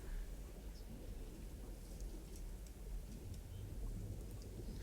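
A thunderstorm at sea in the submarine game Silent Hunter III, with a low continuous rumble of thunder under steady rain hiss, distant and soft throughout without speech.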